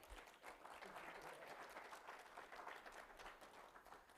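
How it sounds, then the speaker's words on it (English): An audience applauds at the end of a colloquium talk, a faint, steady wash of many hands clapping together that holds evenly throughout. "Oh, you clap."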